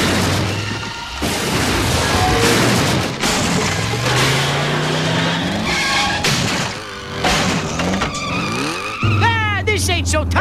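A cartoon car speeds off with loud skidding, squealing tires and revving engine, bursts of motor noise and crashes, with cartoon voices talking over parts of it.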